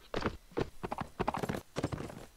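Horse hooves clip-clopping in Mount and Blade: Napoleonic Wars during a cavalry line battle, a quick uneven run of soft, fairly faint hoof thuds with no talk over them.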